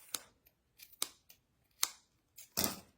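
Scissors snip several times while trimming a hot-glued hair doughnut, making a handful of sharp, close, separate cuts with brief quiet gaps, the last one longer and louder.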